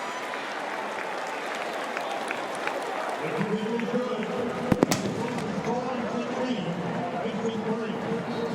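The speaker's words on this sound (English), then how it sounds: "Fireworks go off for the first time since the Tigers ran down the hill about 3 hours ago" Fireworks burst over a packed Clemson Tigers college football stadium during a game against Troy, a couple of sharp, close bangs cutting through a continuous crowd roar near the middle.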